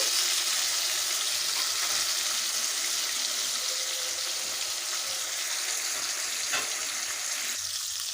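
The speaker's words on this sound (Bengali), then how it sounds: "মাছগুলোকে উল্টে পাল্টে ভেজে নিচ্ছি" Katla fish pieces fry in hot oil as they are turned, giving a steady, even sizzle that runs throughout with no talking.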